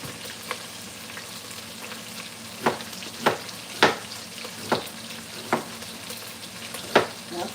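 Onions frying in a pot with bacon, a steady hiss of sizzling fat broken by several sharp clanks and scrapes of a utensil against the pot, close by.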